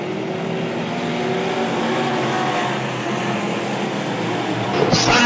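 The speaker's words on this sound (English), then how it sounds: "Side by side racing for third place." Midwest modified race cars roar around a dirt oval at a memorial heat race, engines droning steadily at a distance as several cars run side by side, the pitch rising slightly near the end.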